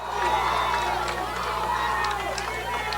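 A crowd at a 2008 high school football game between Thornton Academy and Windham chants for defense, a loud, sustained wash of massed voices from the stands that carries on without pause.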